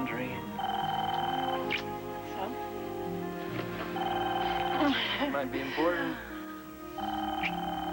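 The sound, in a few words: telephone ringing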